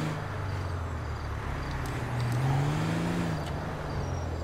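A car drives through a car park in GTA V Online, a steady engine hum with a rising rev in the middle, fairly close and continuous.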